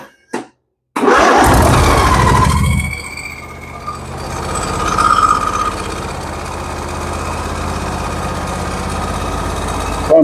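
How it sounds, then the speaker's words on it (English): A John Deere 125 riding mower engine starts with a loud burst, then settles into a steady, continuous idle close by, its drone swelling slightly midway and running alone to the end. "Bump the idle just a smidgen or so. And just let her run."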